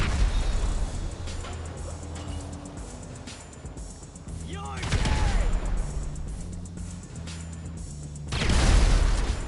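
Sticky bomb explosions and bursts of gunfire in GTA, with booming blasts and rattling shots at varying distances, louder near the start and a heavy blast near the end.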